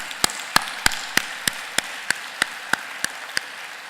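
A church congregation at a Wednesday prayer meeting claps in steady unison, a dozen crisp, evenly spaced beats over a quiet room background.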